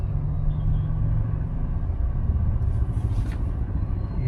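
Road traffic in a busy area near a temple on a Hyderabad to Vizag road trip rumbles steadily, with continuous low engine and tyre noise from passing vehicles and a brief higher hiss, no voices.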